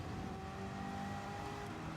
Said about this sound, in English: the LS9 is a very loud, dangerous, scary engine in that car